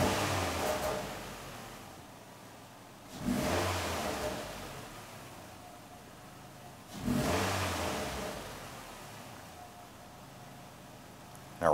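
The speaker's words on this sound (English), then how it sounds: "we want to go ahead and rev the engine 2 to 3 times" A 2008-2013 Nissan Rogue engine revs hard twice after a throttle body replacement, each burst rising and fading back to a steady idle, with a faint hiss between revs.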